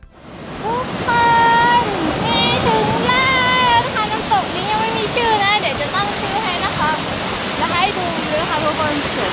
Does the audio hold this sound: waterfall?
yes